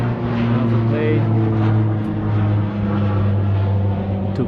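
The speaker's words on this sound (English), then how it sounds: "Plane took off. As you might see." An airplane takes off near Whitehorse, Yukon, making a steady, loud, humming engine drone that holds for several seconds, while a person talks over it.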